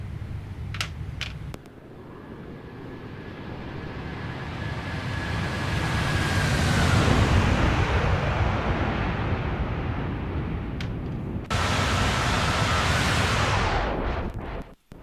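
Rolls-Royce jet engines on a Boeing 777 in the X-Plane 12 flight simulator give a loud, broad roar that builds and holds steady, broken by short clicks and abrupt cuts, with no voices.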